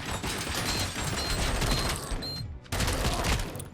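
Assault rifle gunfire in the game Detroit Simulator, loud and continuous bursts with mechanical rattling, a brief gap near the end before firing resumes.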